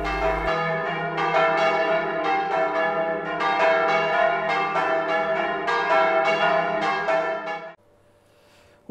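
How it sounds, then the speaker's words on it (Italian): Several church bells, rung by hand by bell ringers in celebration, peal together in a lively, continuous festive ringing that overlaps richly, then stops abruptly, leaving a faint lingering hum. "concerto delle campane suonate a festa dai campanari"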